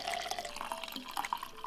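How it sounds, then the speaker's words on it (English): Warm water pours into a glass holding turmeric, a brief trickling, splashing stream with small bubbling drips, close and clear with no talk. "and add warm water."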